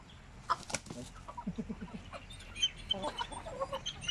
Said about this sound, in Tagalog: Inahin yun ano?